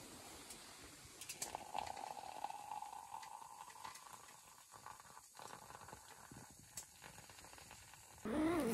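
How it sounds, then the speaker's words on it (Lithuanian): Water boils in a pot for coffee at a winter camp in -12°C cold, a faint steady bubbling hiss with a few scratchy clicks and handling noises. "o vanduo užvėrė"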